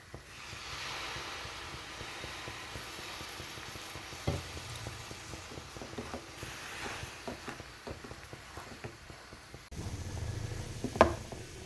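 Ragi laddu mixture with jaggery syrup is stirred in a pan, a quiet soft sizzle under irregular scraping strokes and occasional spoon knocks, close and without talk.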